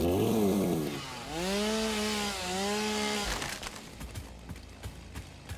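Chainsaw running in the factory-building game Satisfactory, a loud whining motor that revs up and down in sweeping pitch, then drops into rough rattling cutting bursts, heard alone without talk.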